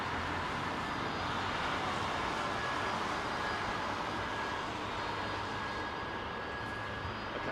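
Steady, continuous jet roar of a Virgin Atlantic Airbus A330 airliner at London Heathrow Airport, a broad sustained rumble holding level throughout with no voices.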